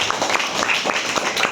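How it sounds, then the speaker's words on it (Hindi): An audience gives loud applause, a dense spread of clapping with some individual claps standing out, held at a fairly constant level for the whole stretch. "क्या बात है, क्या बात है, जोरदार तालियां।"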